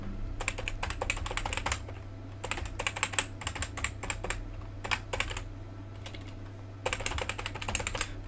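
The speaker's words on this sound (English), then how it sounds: "all you're gonna hear is just me typing and talking to myself" Someone types on a computer keyboard in quick bursts of clattering keystrokes, with short pauses between runs, close and clear.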